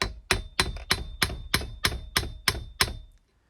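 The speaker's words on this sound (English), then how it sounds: "take your punch, give it a few light taps" A metal punch gives about nine light, evenly spaced taps on a 1994 GasGas Contact TXT trials bike fork seal, each a crisp close metallic knock, followed by silence.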